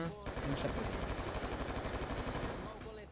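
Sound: gunfire in a video game gun game mode

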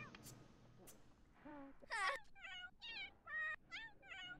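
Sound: cat meowing in the video game The Sims 4

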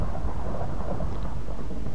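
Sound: thunder and rain in the video game Minecraft

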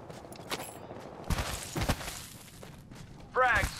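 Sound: gunfire in the video game Apex Legends

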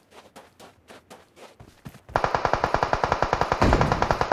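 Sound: gunfire in video game PUBG Mobile

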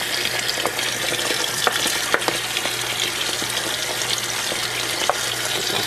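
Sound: cold tap water running into pasta

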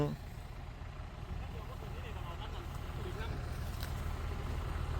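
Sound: tractor coming to pull a stuck Kubota DC120 combine harvester

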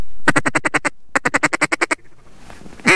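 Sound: mallard ducks quacking

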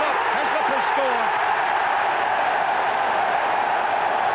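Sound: stadium crowd cheering at Twickenham after England try

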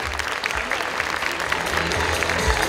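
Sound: audience applause

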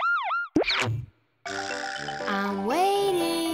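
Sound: police car siren

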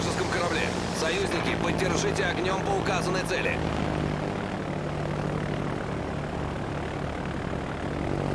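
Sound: fighter aircraft engine in video game World of Warships

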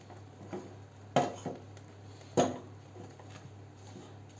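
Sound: stirring mixture in pot

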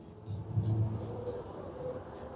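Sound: cars racing on a track

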